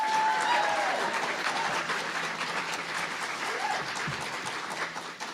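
Sustained applause from an audience at a school board meeting, steady clapping throughout that dips slightly mid-way with no speech over it.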